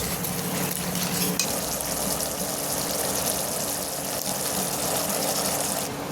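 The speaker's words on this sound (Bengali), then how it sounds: "দিয়ে দিচ্ছি কিছুটা কাঁচা পাকা লঙ্কা" Green and red chillies fry in a pan on an induction cooktop, a dense, even hiss of sizzling oil that holds steady throughout with a low hum beneath.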